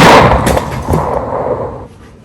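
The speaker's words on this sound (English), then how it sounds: "Say I would, I don't know, fire this gun." A single loud gunshot rings out close by, its sharp crack fading into a short, decaying tail that trails off within about two seconds.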